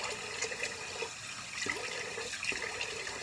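A Gillette Sensor 3 razor is rinsed under a running tap, giving a steady, moderately close splash and flow of water with small gurgles, heard alone without talk.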